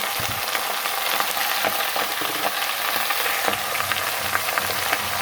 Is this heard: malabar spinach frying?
yes